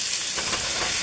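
Chopped onions and kielbasa sausage sizzle in a hot skillet for stew, a loud, steady, close-up frying hiss that runs without a break for about a second.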